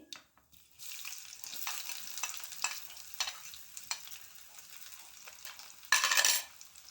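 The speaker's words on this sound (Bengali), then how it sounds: "এবার আমি ফোড়নের জন্য দিয়ে দেব কয়েকটা জিরা, দিয়ে দেব পেঁয়াজ কুচি" Cumin seeds and chopped onion hit hot oil in a wok for tempering, a soft steady sizzle with intermittent stirring clicks and scrapes, and a louder burst of sizzling near the end.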